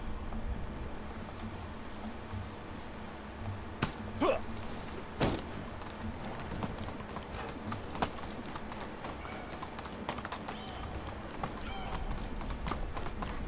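Horse hooves in Medieval Dynasty clip-clop at a steady walking rhythm, with a few sharper knocks and a brief whinny-like sound partway through.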